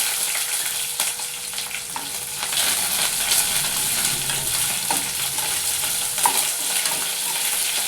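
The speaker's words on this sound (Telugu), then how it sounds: "ఇప్పుడు కరివేపాకు వేసుకుంటున్నాను. అట్లే ఉల్లిపాయలు వేసుకున్నాను." Curry leaves and onions frying in hot oil for a village-style drumstick tempering, a loud, dense, continuous sizzle with faint stirring scrapes, close and without speech.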